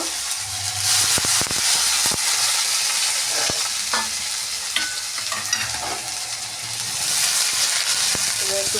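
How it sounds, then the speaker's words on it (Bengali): Onions fry in oil with black cumin and dried chili, a steady sizzle broken by scraping stirs and spatula clinks against the pan. "পেঁয়াজ দিয়ে দিয়েছি এটাকে ভালো করে ভেজে নেব"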